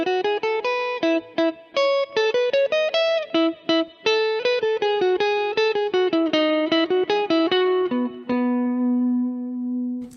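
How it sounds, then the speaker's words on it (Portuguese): A clean-toned electric guitar plays a concert repertoire melody, crisp plucked single notes in a flowing rhythm that ends on a sustained ringing low note, heard solo without talk. "vou demonstrar aqui uma melodia do repertório de concerto com o som limpo da guitarra"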